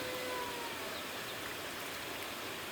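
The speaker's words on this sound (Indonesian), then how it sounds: "Hujannya lumayan deras tuh ya." Heavy rain falls at a chicken coop, a steady, dense hiss of drops that fills the moment without any voices.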